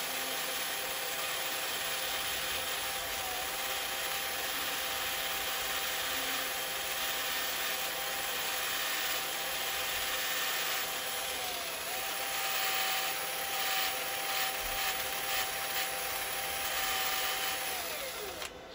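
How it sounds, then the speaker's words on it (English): A steady, continuous whir of a drill with a sanding pad sanding a wooden turned bottle stopper, with a faint high whine running throughout, close and unbroken. "And then I will just sand that."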